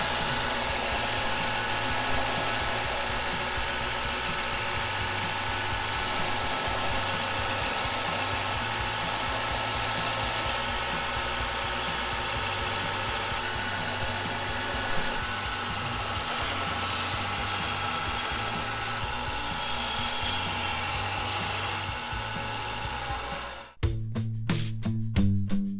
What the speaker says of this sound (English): the next step is the belt sander, and what I'll do is I'm going to round these corners a little bit